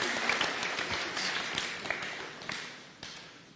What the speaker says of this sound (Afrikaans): Kom ons gee vir hulle 'n lekker hande klap.